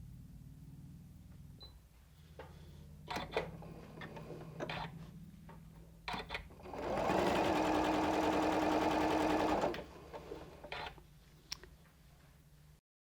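Scattered clicks and handling taps lead into a sewing machine stitching LeMoyne Star quilt points, running in one close, steady burst of about three seconds, followed by more light clicks and fabric handling.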